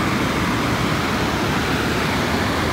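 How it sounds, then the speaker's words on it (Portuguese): Water overflows a dam at Sítio Papagaio in São Mamede, Paraíba, making a loud, unbroken rushing roar close by with no pauses. "Olha o mar da água."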